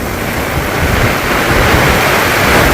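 Heavy stormy rain pours down in a dense, unbroken roar on a village downpour, with a low rumble of thunder rolling beneath it; loud and close throughout, no voices.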